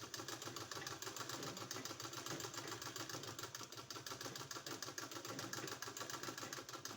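Sewing machine stitching a decorative neck design on a garment, a steady dense mechanical whirr running continuously at moderate level with no talking.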